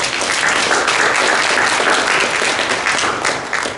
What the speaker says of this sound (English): So that in itself deserves another round of applause.